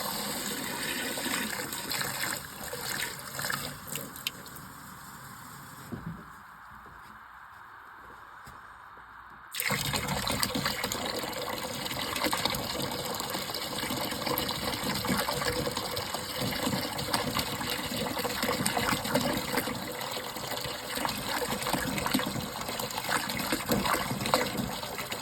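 Liquid pours and gushes into a soaking tub holding old cast iron found in a shed, a loud continuous rushing stream that pauses briefly, then resumes strongly and steadily.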